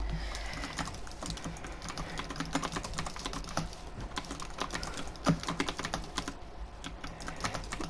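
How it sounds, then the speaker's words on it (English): Rapid, steady typing on a mechanical keyboard, close up and moderately loud, continuous clicking keystrokes with no talking. "Now I have a mechanical keyboard and a gaming mouse, a Razer Viper Mini."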